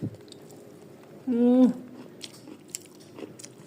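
Eating rice with rohu fish curry and eggplant mash, with soft chewing and a few light mouth clicks in a quiet room, plus one brief tonal squeak near the start.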